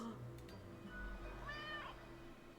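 Cat meowing in the video game Death and Taxes: a soft drawn-out meow over a low background hum, quiet, with no speech over it.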